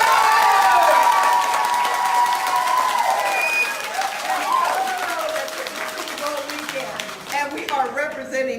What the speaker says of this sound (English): You should be clapping.